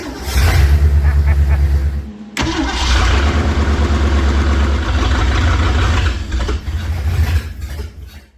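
A 1970 Ford Falcon barn find engine cranking and catching, a loud close rhythmic churning of the starter, a brief pause, then the engine rumbling and running unevenly with revs rising and falling, with a little talk.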